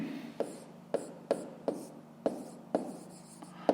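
A pen scratches across paper while working a fifth-grade maths exercise, a quiet, close series of about eight short, evenly spaced writing strokes.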